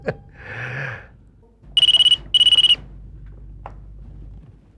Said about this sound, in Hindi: मधुकर, योगेश को फोन लगाओ।